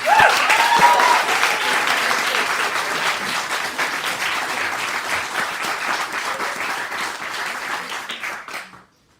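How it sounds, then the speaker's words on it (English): Steady audience applause for educators at a Türkiye student showcase, starting strong and gradually thinning before fading out at the end. "Round of applause for all our educators."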